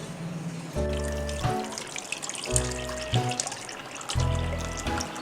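Cooking water is strained off boiled plums for sharbat, a running trickle and splash of liquid with repeated tonal gurgling pulses as the stream flows, close and moderately loud.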